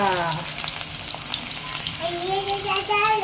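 Cumin seeds sizzle in hot oil, a dense, steady crackling hiss with sharp pops running throughout, close and fairly loud, with no talking over it.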